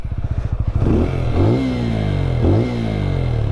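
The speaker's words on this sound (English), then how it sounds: "And the exhaust sound is also very good" A 2020 TVS Apache RTR 200 4V motorcycle idles with a rapid, thumping exhaust pulse, then revs sharply twice. Each throttle blip is loud and close, with the engine climbing and falling back between revs, and no talk over it.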